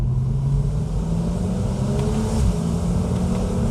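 A 2011 Porsche Boxster S exhaust rumbles deep and steady, a continuous low growl that stays loud and close throughout.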